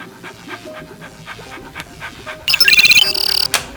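A dog pants in quick rhythmic breaths, moderately close, for a few seconds before a bright electronic ringing tone cuts in and briefly drowns it out.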